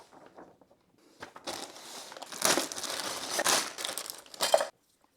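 Paper and a rubber band being pulled off transparent GraviTrax plastic connectors during an unboxing, giving bursts of close, dry crinkling and rustling that build and grow louder over several seconds.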